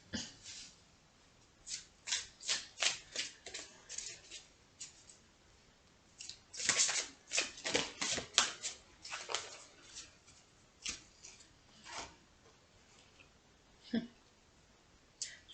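Oracle cards shuffled by hand in a series of quick, crisp riffling and flicking bursts, close and fairly soft, with short pauses between handfuls.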